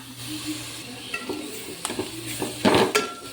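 Spice powders being stirred in a pan for a chicken roast, a spoon scraping and clinking against the metal with a faint sizzle underneath, the strokes growing louder and busier toward the end.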